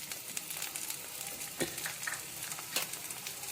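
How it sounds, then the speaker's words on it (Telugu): Onion fries in mustard oil in a pan for chama dumpala pulusu, a steady soft sizzle broken by occasional stirring scrapes and crackles. "ముందుగా స్టవ్ ఆన్ చేసి కొంచెం ఆయిల్ వేసాం కదా, ఇప్పుడు ఆనియన్ వేద్దాం."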